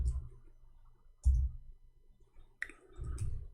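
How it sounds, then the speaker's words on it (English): A computer keyboard being tapped, producing a few scattered clicks and soft thumps at close range in an otherwise quiet room. "finally, our keyboard working fine"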